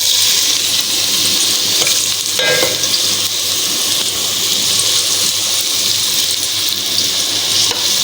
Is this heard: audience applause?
no